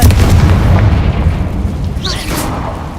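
A loud, booming explosive blast from the Confringo spell in a video game, a dense rumbling roar that fills the whole moment and slowly fades.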